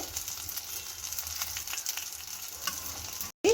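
A potato-stuffed snack frying in a pan and being turned over: a steady, soft sizzle of hot oil running throughout, with faint stirring and scraping, then a brief gap and a sudden louder burst at the end.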